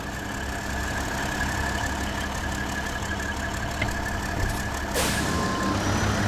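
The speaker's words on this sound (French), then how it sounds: "Allez, on fait chauffer le camion." A heavy off-road truck in SnowRunner rumbles at a steady idle, a low engine drone holding throughout with a brief sharper burst near the end as the engine picks up.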